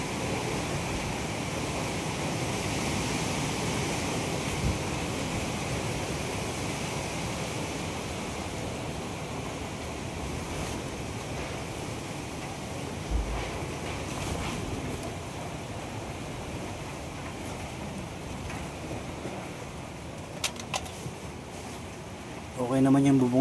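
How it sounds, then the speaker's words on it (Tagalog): Strong typhoon wind roars steadily throughout, a dense broadband rush with surges, loud and continuous, with a brief clatter near the end. "Ang lakas ng ugo ng hangin."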